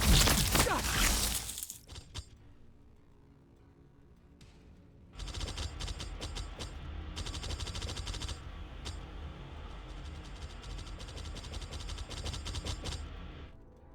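Gunfire in Warhammer 40,000: Battlesector: a loud burst of shots opens the clip, then after a quieter lull comes sustained, dense rapid fire with crackling volleys that continues to the end.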